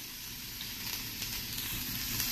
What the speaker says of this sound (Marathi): आणि एक चिरलेला कांदा लगेच घालायचा.